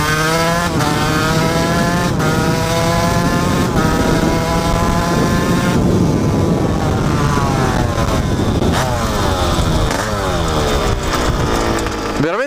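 A Fantic TZ 125 two-stroke motard motorcycle screams at full throttle, its high buzzing engine note rising and falling in pitch through repeated shifts and revs, close and loud for the whole stretch.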